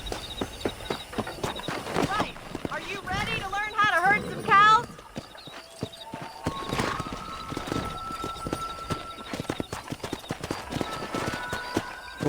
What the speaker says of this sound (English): Monte no seu cavalo.